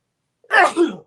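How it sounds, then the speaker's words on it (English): A single short, sharp sneeze bursts out in two quick pulses, close and fairly loud, with silence before it. "Oh, I gotta sneeze."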